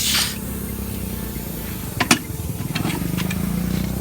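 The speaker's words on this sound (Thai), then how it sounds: "เนี่ยบีบขอบยางครับ" A tire changing tool squeezes the bead of a torn-tread tire in a repair shop, giving a steady hiss of air with a few short clanks and squeaks near the middle. The machine's hum continues underneath, and no one speaks.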